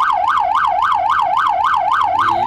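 Wailing ambulance siren on an emergency run in Mexico City, loud and close, rising and falling in a steady, fast cycle with no talk over it.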